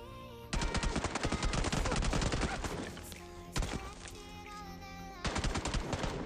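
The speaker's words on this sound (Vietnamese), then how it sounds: "Nghe tiếng súng chạy qua này." Loud automatic gunfire rattles in the battle royale video game PUBG Mobile, in rapid bursts with a short pause and then another burst near the end.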